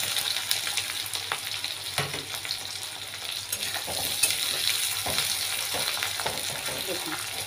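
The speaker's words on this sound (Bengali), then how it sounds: "গ্যাসের ফ্লেমটা কমিয়ে রেখে পেঁয়াজটা ধীরে ধীরে ভেজে নেব" Chopped onions fry slowly in oil over a low gas flame for a chicken and potato curry, giving a dense, even, close sizzle with light stirring scrapes and no voices.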